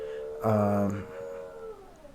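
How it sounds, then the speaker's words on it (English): A French bulldog cries indoors in the background. It gives one drawn-out, whining howl that lasts about half a second, then tails off into a fainter, falling whimper. "my dog is crying in the background"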